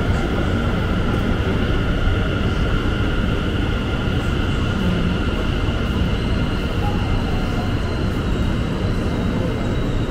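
An express train bound for Taipei Main Station roars past in a loud, steady rumble with a whining hum, continuous and close throughout.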